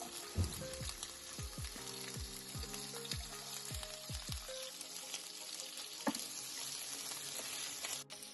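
Oil sizzles and crackles steadily as onions fry in a wok, with several short clanking stirs near the start and a sharp knock toward the end; no voices.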